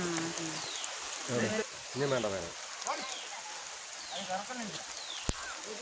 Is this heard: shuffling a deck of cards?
no